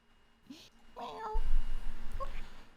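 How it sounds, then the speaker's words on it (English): A house cat meows in two or three short, nasal calls close to the microphone, over a low background hum and a soft, brief rustle. "That is my cat, Casey."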